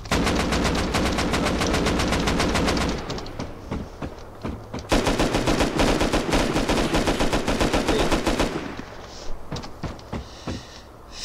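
Gunfire in the video game Rust, loud rapid bursts of automatic shots in long sustained volleys with a brief pause in between, then scattered single shots trailing off, close and dominant.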